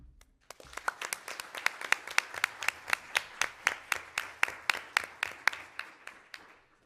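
A school board meeting audience claps together in a steady, even rhythm, roughly two dozen sharp claps in quick succession, loud and close, with no voices over it.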